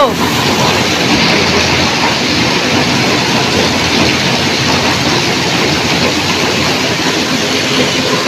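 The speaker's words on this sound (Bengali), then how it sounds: "পানি পড়ছে ছাদ থেকে, দেখেন এত পরিমাণ শব্দ" Heavy rain pours off a roof during a storm, a loud, unbroken roar of falling water that stays dense and steady from start to finish.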